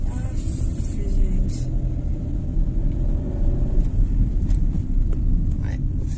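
A car accelerates in busy city traffic, its engine a steady low rumble close by, with faint passing vehicle noise around it.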